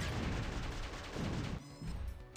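Heavy Black Fist Mortar weapon firing in the Jets'n'Guns shooter game, a dense, continuous barrage of loud booming blasts and crunching impacts that briefly dips and then resumes.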